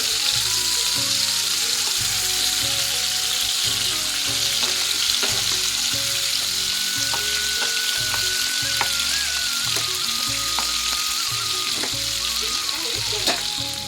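Prawns for malai curry frying in a pan, a continuous close sizzle and crackle of hot oil with some faint stirring clatter, steady throughout with no talk.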